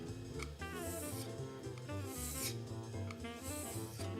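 Coarse-grit sandpaper rasping steadily across a hand plane under restoration, with continuous back-and-forth scrubbing strokes that stay close and fairly loud throughout, alongside a faint musical tone underneath.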